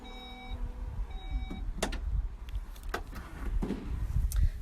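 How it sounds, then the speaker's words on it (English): A Skoda Kodiaq's powered tailgate hums shut, a few soft electronic beeps, then a closing thud and latch clicks, moderately close. "you can press the button to shut the boot"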